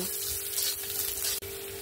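A continuous loud sizzle of chopped onion frying in oil in a pan, steady and close with only a momentary break.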